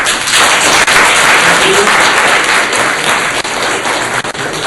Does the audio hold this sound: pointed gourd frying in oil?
no